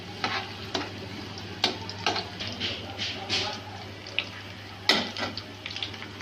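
Garlic frying in oil in a pan for Chinese rice, a steady soft sizzle broken by irregular scraping stirs and sharp spatula clatters against the pan.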